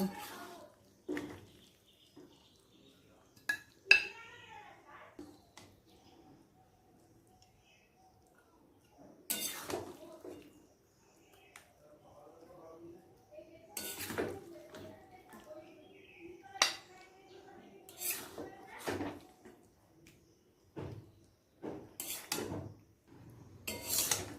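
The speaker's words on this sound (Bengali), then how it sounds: "এবার অন্য পাত্রে তুলে নেব" Cooked Malabar spinach chorchori with fish head is moved into another pot, with sparse metal spoon scrapes and clinks against cookware, separated by quiet gaps and some faint talk.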